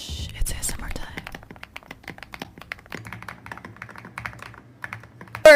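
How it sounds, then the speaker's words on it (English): Someone types on a creamy wireless mechanical keyboard fitted with double-shot PBT keycaps, a steady run of soft, muted clacks up close with a few whispers mixed in. "wireless keyboard that comes with double-shot PBT keycaps"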